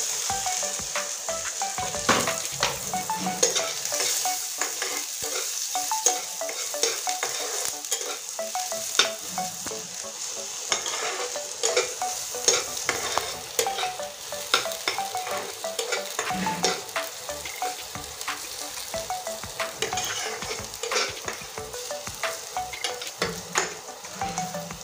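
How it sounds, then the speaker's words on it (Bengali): Garlic sizzles steadily in hot oil in a pan, with frequent scraping stirs and light clinks of a spatula against the metal running the whole time, close and fairly loud, with no talking. "দেখুন রসুনটা লাল করে ভেজে নিয়েছি।"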